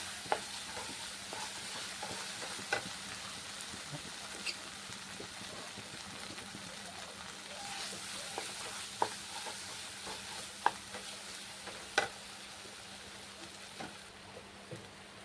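Onion and cashew spice paste sautéing in oil for rui fish malaikari, a soft, steady sizzle with scattered sharp taps and scrapes of a spatula stirring against the pan.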